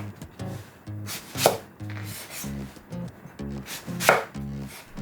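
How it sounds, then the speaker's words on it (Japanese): Eggplant sliced thin with a knife on a cutting board for a summer vegetable dry curry: rapid bursts of crisp, rhythmic chopping taps, close and clear, pausing briefly between runs, with no talk. "ナスもピーマン同様千切りにしていく。 まずは5ミリ幅ほどに薄切り。"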